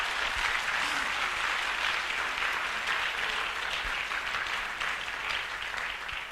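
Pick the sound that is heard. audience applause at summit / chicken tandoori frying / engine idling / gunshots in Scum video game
audience applause at summit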